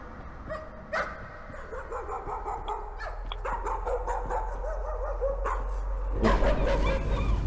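Dog barking and yipping in the horror video game Layers of Fear, seemingly from a painting, with repeated sharp barks and whimpers over a low droning ambience, growing louder toward the end, no talk.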